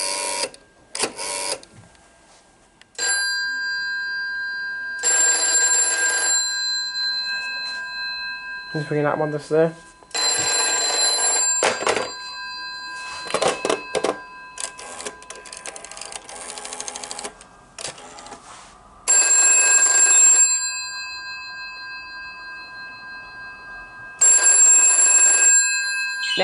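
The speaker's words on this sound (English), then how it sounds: "The bells you're hearing are not the original 1969 gongs in this phone." A GPO 746 telephone from 1969, fitted with non-original replacement gongs, rings in several separate bursts of bright metallic bell trill, each a second or two long, with someone speaking briefly between the rings.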